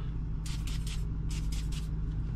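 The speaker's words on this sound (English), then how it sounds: "what you're gonna need is to spray some silicone spray" Two quick bursts of silicone spray hissing from an aerosol can onto a car armrest in a Toyota Sequoia or Tundra, each burst a few short pulses, close by over a low steady hum.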